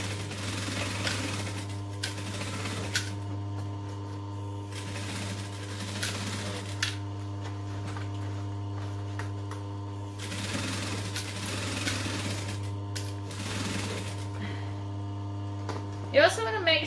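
Home sewing machine stitching a backpack panel face down along its bottom edge, a steady motor whir coming in several bursts with pauses between, under a constant low hum and some talk.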